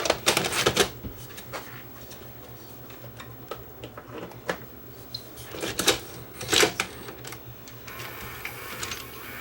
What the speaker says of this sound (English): We're going to power the unit up and run a tape through it and see what it does